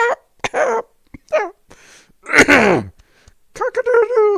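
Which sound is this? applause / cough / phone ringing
cough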